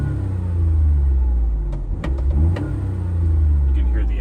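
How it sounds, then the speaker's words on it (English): A 2006 Smart Fortwo's 61hp rear-mounted engine idles with a steady low rumble from behind the cabin, a few brief clicks and knocks over the drone. "engine coming from behind me"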